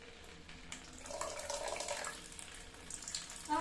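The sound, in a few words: water running from a tap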